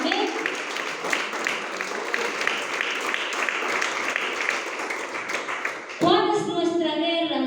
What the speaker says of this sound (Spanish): ¿Cuántos le dan fuerte aplauso al Señor?